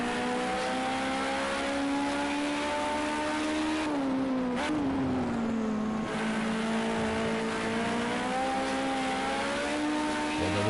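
Race car engine in Project Cars 2 holding a steady high drone while the car slides through a corner, with a brief dip and wavering pitch midway as the tyres scrub; loud and continuous, no talk.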